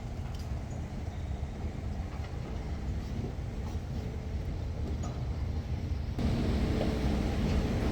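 A steady low rumble and hum of a metro train fills an indoor station near a mall in Qatar. The sound is continuous and moderately loud and swells slightly near the end, with no voices.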